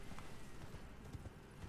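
Horse hooves clip-clopping while riding in the video game Elden Ring, a steady quiet run of hoof beats under low game background noise.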